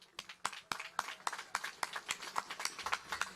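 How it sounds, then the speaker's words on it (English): Scattered, fairly quiet claps from a crowd at an NSP election rally in Woodlands, Singapore, with sharp individual hand claps landing irregularly that build into a loose round of applause. "give yourself a round of applause for achieving this wonderful feat"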